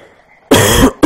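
A character in The Forest coughs twice, one harsh loud burst followed by a short second cough, close and clear against near silence.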